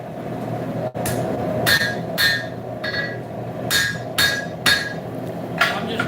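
Hammer blows shaping a horseshoe into a letter opener at a forge: about eight sharp ringing strikes in an irregular rhythm over a steady low shop hum, fairly close.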